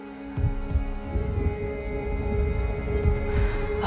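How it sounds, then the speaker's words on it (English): A heartbeat sound effect in a video game trailer, with low, muffled thumps pulsing at a slow, steady rhythm over a dark droning hum, close and moderately loud with no talking. "The heartbeat of the lost ones."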